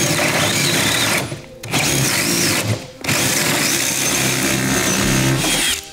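A power drill boring a hole with a Forstner bit whines loudly and steadily, cutting out briefly twice before spinning up again, with a grinding, buzzing edge as it bores.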